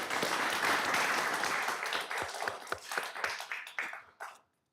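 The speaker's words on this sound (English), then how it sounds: "I want to give you a round of applause as well." An audience at a community college district board of trustees meeting applauds. Dense, steady clapping fills the room at first, then thins into scattered individual claps that fade out.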